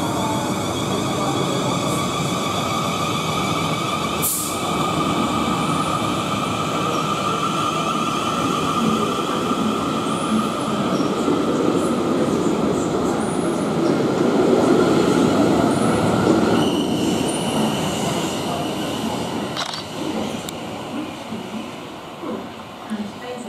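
A South Western Railway train arrives at Brookwood station platform with a steady rumble, rising wheel noise and a high squeal, slowing near the end amid faint background voices.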